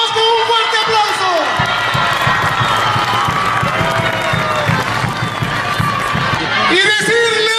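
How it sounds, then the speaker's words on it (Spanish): A crowd applauds and cheers for President Alan García in Cusco, with dense clapping and shouting continuing throughout while an announcer's voice carries over the top. "a quien tributamos con un fuerte aplauso"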